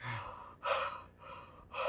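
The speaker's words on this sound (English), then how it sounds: "The heavy breathing." Heavy, labored breathing from exertion in the heat, three or four loud, close gasping breaths in a steady rhythm with no talking.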